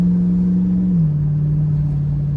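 A 2003 Jeep Wrangler Rubicon on a 4-inch Terraflex lift drives along with a steady, close engine drone. The pitch dips slightly partway through, and no voices are heard.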